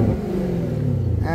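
A 2023 Chevrolet Camaro ZL1 convertible in tour mode gives a loud, close engine rumble that holds steady, then climbs in pitch as the revs rise at the end.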